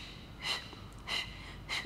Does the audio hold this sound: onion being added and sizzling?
no